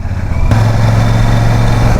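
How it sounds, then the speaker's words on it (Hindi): A Royal Enfield Super Meteor 650 cc cruiser motorcycle underway on the road, its engine a loud, steady low drone with constant rumble and rushing wind, no pauses. "क्योंकि 650 सीसी इंजन है भाई, थोड़ा सा दम दिख रहा है बाइक में"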